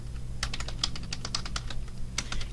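A username is typed on a computer keyboard in a steady run of close, crisp keystrokes over a constant low background hum.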